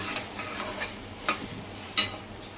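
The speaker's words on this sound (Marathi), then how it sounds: "फोडणी म्हणून त्याला चांगलं हलवत राहायचं" Soft sizzling of onion, garlic, chili and ginger in oil while a spoon stirs, with a few sharp scraping clicks against the metal, near and fairly quiet.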